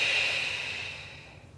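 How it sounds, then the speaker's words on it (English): A long, deep exhale during a gentle Pilates exercise, a close, breathy rush that fades out steadily with no talking. "Nice deep breath."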